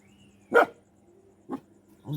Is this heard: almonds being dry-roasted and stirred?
no